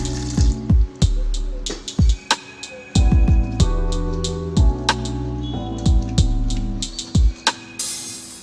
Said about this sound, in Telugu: ఉడికించిన చింతకాయల్లో కొద్దిగా వాటర్ వేసుకొని రసం తీసుకోవాలి.